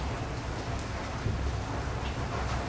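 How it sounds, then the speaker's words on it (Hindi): Heavy stormy rain pours down steadily and loudly, a dense continuous roar with low rumbling thunder underneath throughout, no voices. "इतनी तूफ़ानी बारिश हो रही है कि आप सोच नहीं सकते"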